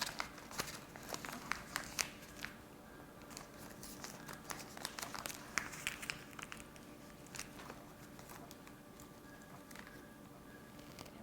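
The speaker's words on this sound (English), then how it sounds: "Now we're going to take it and fold it." A paper star finder being folded by hand gives faint, close crinkles and soft creasing taps, heavier in the first half and thinning out toward the end.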